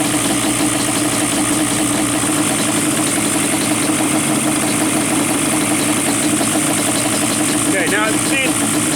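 A Banshee quad engine idles with its carburetors out of sync, a steady, slightly uneven loud rumble running throughout, with a voice speaking briefly near the end.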